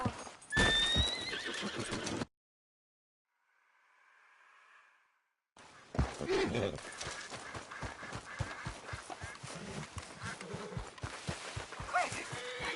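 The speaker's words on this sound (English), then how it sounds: "Get me off this horse!" A horse in Red Dead Redemption 2 neighs loudly up close, then goes briefly near-silent, then hooves clip-clop in a steady galloping rhythm, with a second whinny near the start.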